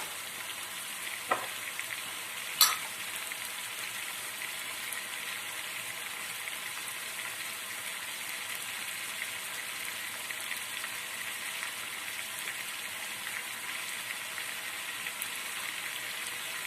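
Onions and meat for Turkish hünkar kapama fry in a pan with a steady, even sizzle throughout, broken by a couple of brief clinks of a utensil early on.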